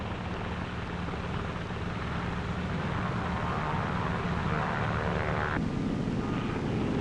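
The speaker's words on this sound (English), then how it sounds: "Navy F-6F mother control planes are catapulted from the carrier's flight deck" Navy F6F planes roar off the flight deck of the carrier USS Shangri-La at sea, a constant loud broadband engine and wind rush with no pauses and a slight shift in tone near the end.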